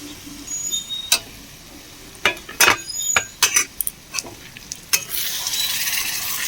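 Spice paste for a mutton curry frying in a pan, a soft sizzle broken by a series of scraping stirs and clinks of a spoon against the pot, close and without talk.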